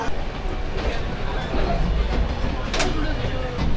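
Howrah to Cuttack train underway, a steady loud rumble of the moving carriage with rattling and a rushing background, heard from inside the train along with some faint background chatter.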